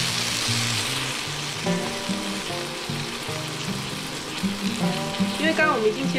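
Diced tomatoes sizzling and frying in a pan for a home-style tomato and egg stir-fry, a continuous close crackle with occasional stirring, while a person talks over it.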